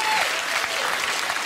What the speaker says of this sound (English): you really shouldn't applaud